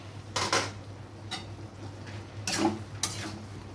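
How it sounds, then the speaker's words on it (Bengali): Prawns stirred in a pan for a potato and eggplant curry, with a few soft scraping strokes and light clinks over a faint low sizzle, quiet and close. "চিংড়ি মাছগুলো দিয়ে আমি একটু নেড়ে নেব"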